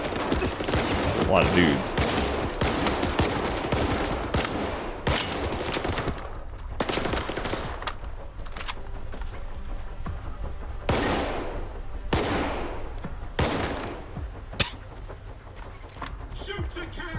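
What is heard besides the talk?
gunfire in the video game S.T.A.L.K.E.R. 2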